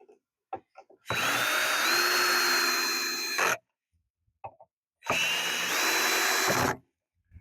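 A power drill drives pocket screws into a wooden bandsaw stand in two sustained bursts of about two and a half and one and a half seconds, loud and close, with brief handling knocks between them and no talking.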